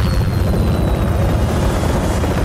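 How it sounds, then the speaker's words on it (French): Helicopter in a scene from the 2005 film Alone in the Dark: a loud, steady rotor and engine roar fills the whole stretch without a break. "C'est revu des mecs qui parlent dans un hélico"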